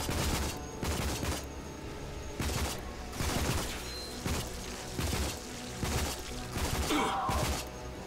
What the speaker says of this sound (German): Schlecht ist das MG hier aber auch nicht.